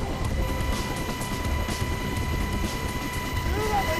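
The inside of a military helicopter on a high-altitude parachute training flight: a loud, steady engine and rotor drone with a constant low rumble and a faint whine, plus a brief squeak near the end.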